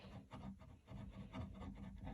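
Quiet, close scraping of excess wax off the edge of a painted wooden chair, a series of short rasping strokes in an uneven rhythm, with no talking.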